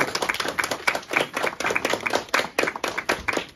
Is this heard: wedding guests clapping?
yes